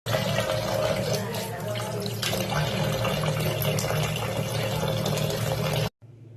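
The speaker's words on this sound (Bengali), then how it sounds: "মাছটা ধোয়া হয়ে গেছে" Katla fish being washed with water gives a continuous close splashing and pouring sound that runs steadily for several seconds before stopping abruptly.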